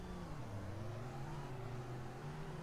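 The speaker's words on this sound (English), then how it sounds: "I'm flooring it." A car engine in the Roblox video game Greenville holds a steady droning rev at full throttle, the tone rising slightly and continuous throughout at moderate, even loudness with no talking.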